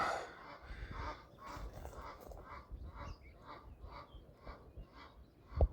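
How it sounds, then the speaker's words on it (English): Geese honking repeatedly in the open countryside along a river on a hike, a string of harsh calls at moderate distance over steady outdoor background, with one sharp louder sound at the very end. "So the geese are quite upset."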